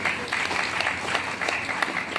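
A seminar audience in Gumla breaks into applause, a sustained patter of many hands clapping at fairly even loudness for a couple of seconds.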